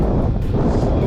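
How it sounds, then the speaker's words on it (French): Strong wind on a mountain ridge during a trail ultramarathon buffets the microphone in a loud, continuous low roar with gusty swells. "Je sais pas si vous entendez bien parce qu'il y a beaucoup de vent"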